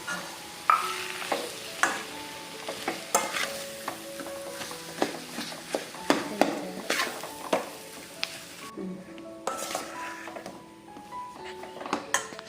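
Boiled potato being stirred into a frying bonda filling of potato and peas in a pan, with repeated scraping and clinking spoon strokes over a soft background sizzle, alongside faint tonal music.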